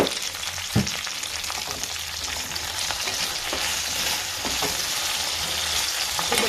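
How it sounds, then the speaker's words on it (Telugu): Drumsticks with tomato and onion lightly frying for sambar, a steady broadband sizzle throughout with a few sharp stirring clinks and scrapes of a spoon against the pan, no voices. "ఎర్రగడ్డ వేసుకునేసి లైట్గా ఫ్రై చేసుకున్నాం"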